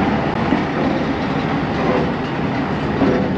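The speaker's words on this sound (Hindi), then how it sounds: "यहाँ पे ट्रेन पहुँची थी, रुकी थी और अब रवाना हो रही है" Fareed Express passenger train pulling out of Karor Pakka station on a branch line, heard as a steady, loud rolling rumble with rhythmic clickety-clack of wheels, continuous and without talk.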